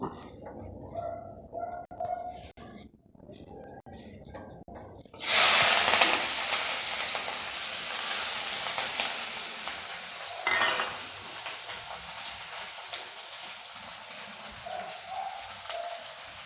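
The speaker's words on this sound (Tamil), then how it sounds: "எல்லாம் ஒன்றா போட்டு நல்லா வதக்குங்க" Green chilli and tomato tipped into hot oil with popped mustard seeds in a pan, bursting into a loud, steady sizzle after a quieter start with faint talk, then frying on close and continuous.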